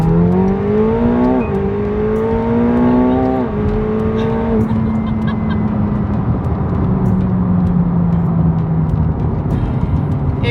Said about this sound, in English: let's do a 40 roll in second gear